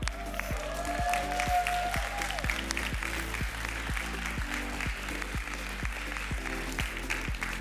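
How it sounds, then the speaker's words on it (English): An audience at a LegacyPro Academy CEO challenge announcement applauds, a steady layer of clapping riding over a strong, regularly thumping music beat. "you guys need a louder applause than that"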